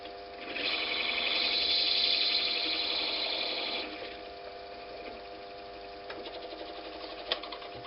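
A small wood lathe trims a bullet pen barrel down to its brass tube with a loud, steady motor whine that drops to a quieter hum partway through, followed by a few light taps.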